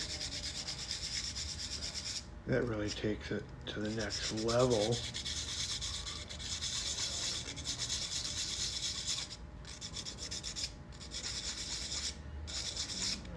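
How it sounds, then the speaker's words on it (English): Wet sanding of a sculpture: a steady, soft scrubbing rasp runs continuously under a brief remark from a man partway through. "I'm gonna need to get some water, do some wet sanding."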